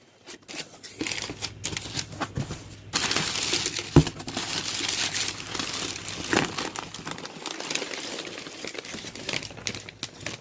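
Mishimoto product packaging being opened by hand, close crinkling and crumpling with tearing rustles and scattered taps and knocks running steadily throughout.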